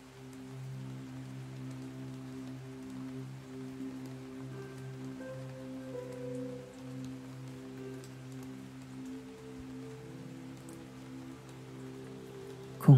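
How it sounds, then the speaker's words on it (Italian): Soft, steady rain falls gently and evenly throughout, with a low continuous hum underneath and no voices, suited to a calm guided meditation. "Con questo dolce suono della pioggia"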